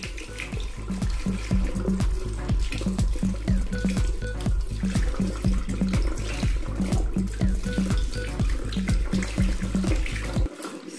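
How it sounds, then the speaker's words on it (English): Steady tap water splashing into a sink as makeup brushes are rinsed under cold water, a continuous rushing stream with faint rhythmic knocking underneath, close and fairly loud, stopping abruptly at the end. "it's time to rinse under cold water"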